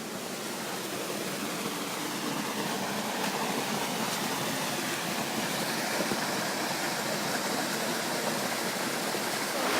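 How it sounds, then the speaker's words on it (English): A small waterfall and stream in a valley near Marrakesh, where the water runs through carefully built channels, give off a steady, even rush of falling and flowing water that holds at the same level throughout, with no voices. "And now there's the waterfall."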